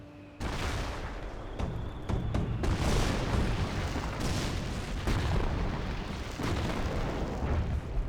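Artillery from a British 25-pounder field gun in a Company of Heroes match: a continuous roar of heavy booms and rumbling blasts overlapping for several seconds, loud and dense with no talk over it.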